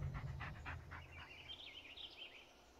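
Bullet the dog from the Blair Witch game gives a few quick panting breaths, then a thin high whine trails on faintly in a quiet scene.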